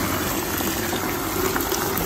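Hot water is poured into a plastic container holding sorrel and other ingredients, a steady rushing, gushing flow that stays loud and continuous without a break.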